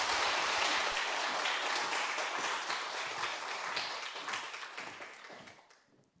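An audience at a retirement and inauguration ceremony applauds as the next speaker is welcomed. The clapping is dense and sustained, then fades away toward the end, with no talking.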